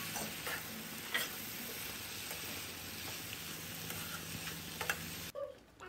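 Eggplant and tomato are stir-fried with fish in a pan, with a soft continuous sizzle and scattered scraping, tapping stirring noises. The sound is fairly quiet and close, and it cuts off abruptly near the end.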